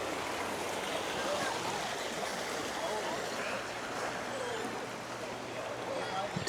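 Water from a creek in a Sierra Nevada foothills town flows steadily in a continuous broadband rush, close and even throughout, with a faint low hum running beneath it.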